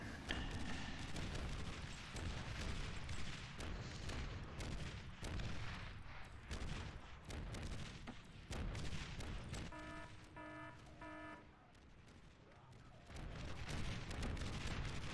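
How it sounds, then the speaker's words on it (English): Explosions and gunfire from the real-time strategy game Beyond All Reason rumble in dense repeated bursts, loud and continuous, with a short stretch of electronic beeping tones in the middle before the blasts resume. "Let's look at the explosion."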